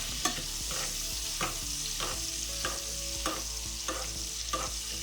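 Steak sizzling in a pan with butter, rosemary and garlic, a constant frying hiss broken by regular spoon scrapes and splashes as the fat is basted over the meat, with no talk.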